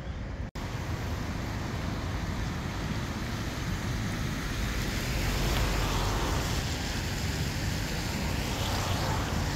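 Floodwater spreads over river banks in Nottinghamshire, heard as a broad, continuous rushing wash mixed with steady wind buffeting the microphone, with no speech.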